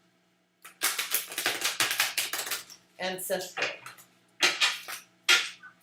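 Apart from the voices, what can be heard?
shuffling thick tarot cards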